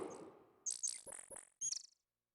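Electronic bird chirps from the 1992 adventure game King's Quest VI, a few short, bright synthetic tweets in quick bursts after a brief low murmur, then silence.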